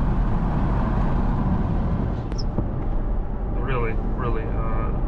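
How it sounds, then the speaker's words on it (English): Steady, loud road rumble from the tires of a 2024 Mercedes GLC AMG SUV on a rough surface, heard from inside, fills the whole stretch, with a person talking briefly near the end. "Now we don't have the best surface, so it's more loud in terms of the tire noise"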